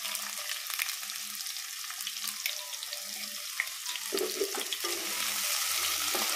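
Two small chopped onions drop into hot oil in a pan and fry with a steady, loud sizzle, punctuated by stirring clatter and a faint repeating hum.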